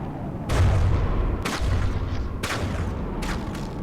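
Explosions go off inside a sinking warship in the naval combat game From the Depths: four or five heavy booms about a second apart over a constant low rumble.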